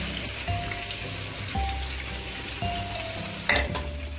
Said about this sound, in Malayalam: ഈ പാനിൽ എണ്ണ ഒഴിച്ച് ഈ ചിക്കനെ വറുത്തെടുക്കാം.